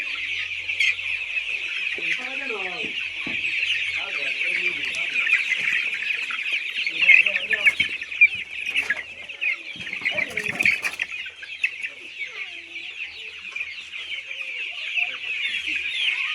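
Chickens cluck and chatter steadily at a poultry farm, with several birds calling close by over a continuous shrill background of chirping; someone talks briefly in the middle.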